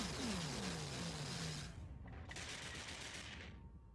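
Abaddon battleships in a space video game tournament match taking weapons fire, a dense, continuous barrage of rapid booming shots with a falling whine at the start, steady and moderately loud throughout.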